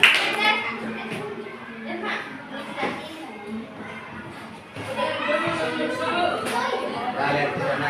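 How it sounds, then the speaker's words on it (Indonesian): Children clap in a classroom, with scattered hand claps and thumps mixed into lively chatter and kids' voices close by, the clapping growing busier toward the end. "Tepuk tangan."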